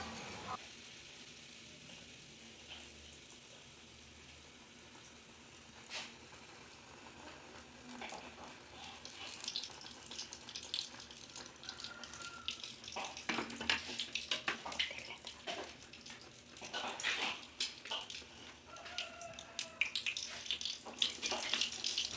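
Kavum, a Sri Lankan sweet, frying in coconut oil in a pan, starting as a quiet hiss and building into a louder, crackling, bubbling sizzle with scattered pops.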